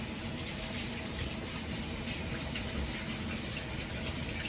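Hands are rinsed under a running kitchen tap during kombucha kegging: a steady, moderately faint stream of water splashes continuously with no talking.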